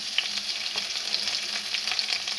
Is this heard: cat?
no